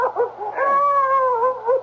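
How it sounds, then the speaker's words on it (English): A dog howls in an old radio mystery drama: a single loud, drawn-out, wavering howl close by, rising then slowly sliding down, with no talk over it. "Hey, what's that? The dog."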